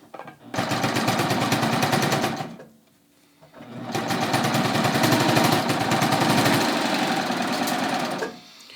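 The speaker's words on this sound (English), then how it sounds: "I'm going to start stitching." A sewing machine stitches yoga pants fabric in two long, steady rapid bursts separated by a short pause, loud and close with no talk over it.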